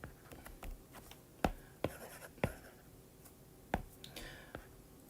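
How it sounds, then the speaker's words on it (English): Pen writing notes by hand during a lecture on investments, a run of soft scratches and a few sharp taps close by, with quiet room noise and no talk. "Okay, so let me write this down."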